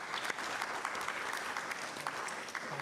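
Sustained applause fills a city council chamber in Newcastle after a councillor's maiden speech, a dense steady patter of many hands clapping throughout with no speech over it.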